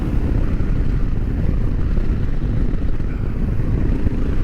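A 40-horsepower Royal Enfield Himalayan 462cc motorcycle ridden during engine break-in and kept under 4,000 rpm gives a steady, loud, low engine drone mixed with rushing wind noise that carries on without a break.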